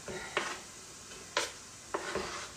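Onions go into a pot of potato soup with a soft, steady sizzle, broken by a few sharp stirring scrapes and clinks close by.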